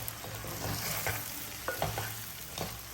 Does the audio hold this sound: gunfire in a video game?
no